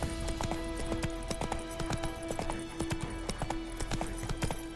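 Hooves of the horse Roach clip-clop in a steady rhythmic walking gait in Witcher 3 gameplay, with moderately loud, close hoof strikes over a faint ambient background.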